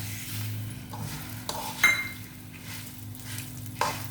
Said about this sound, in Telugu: ఇప్పుడైతే మినపప్పు వేగిందండి ఇంకా కొంచెం వేగాలి ఈ నువ్వు పప్పుతో కలిసి మొత్తం వేగిపోద్ది